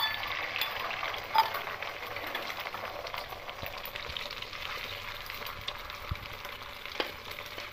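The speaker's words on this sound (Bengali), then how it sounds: "কড়াইয়ে সরষের তেল দিয়ে তেলটা গরম হয়ে গেছে। এবার ডিমের গোলাটা দিয়ে দেবো।" Egg batter frying in hot mustard oil in a wok, a steady close sizzle with soft crackles and a few small pops, with no talking.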